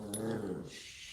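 Dogs at home give a low growl that slides into a soft whimper, close by and brief, with a faint thin squeak near the start.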